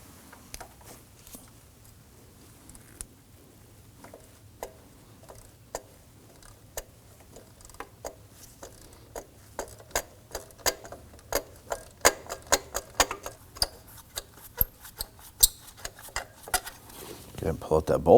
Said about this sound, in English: We're going to use our 10mm socket and our 1/4" ratchet.